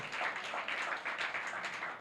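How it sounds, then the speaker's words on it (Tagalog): A church congregation clapping together during worship, steady dense applause with a rhythmic pulse, heard at a moderate distance and fairly soft. "Isang palakpak para sa Kanya."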